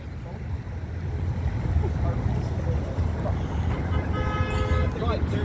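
Antique cars tooting horns in a car club parade during a Flag Day protest, heard as a few short horn toots near the end over a steady rumble of engines and crowd noise, with people talking.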